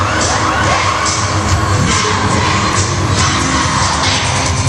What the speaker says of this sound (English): They're chanting the cheer with them.